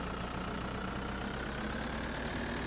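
A tractor engine idles in Farming Simulator 2013, a steady low rumbling drone with a faint knocking texture, holding an even level throughout.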